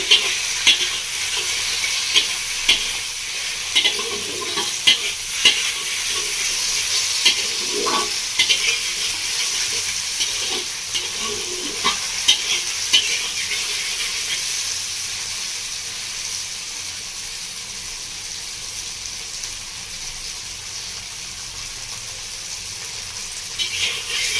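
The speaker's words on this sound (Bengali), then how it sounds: "আমরা মশলাটাকে ভালো করে মিশিয়ে নেব।" Spoon stirring turmeric and Kashmiri chilli masala frying in oil for a village-style Bengali fish curry, a steady close sizzle with irregular scraping clicks that gradually quiets toward the end.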